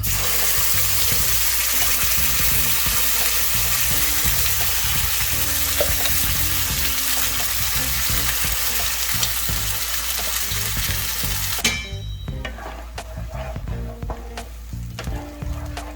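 Ground masala with green chili sizzles loudly in a pan while being stirred for dhaba-style Hyderabadi paneer masala. The frying is steady and close, then drops to quieter scraping and stirring near the end, with no voices.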